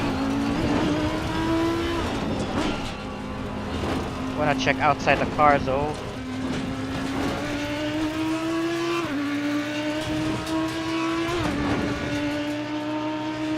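An Audi GT3 race car in the ACC racing game at Spa gives a loud, steady close engine note that rises through the gears, with brief revving bursts and shifts, while someone talks over it.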